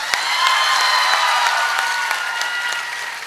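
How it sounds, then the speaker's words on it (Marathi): Loud, steady applause from a seated audience at a Marathi lecture on teachers, sustained clapping across the whole stretch with no speech over it. "एकदा जोरदार टाळ्या होत्या"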